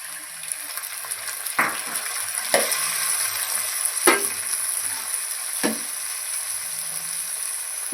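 Eggplant and tomato curry with salt and chili sizzles in a pan, a constant close frying hiss with four distinct scraping stirs spaced a second or so apart.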